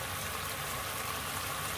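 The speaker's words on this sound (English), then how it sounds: "Pour in the sauce that we made earlier into the blanched broccoli" Prepared sauce is poured over blanched broccoli in a stir-fried broccoli and prawn dish, giving a soft, steady liquid trickle that stays quiet and close.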